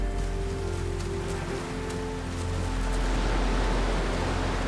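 Steady rain falls on an Arctic beach as a soft, even wash of noise, with a low rumble underneath and no voices.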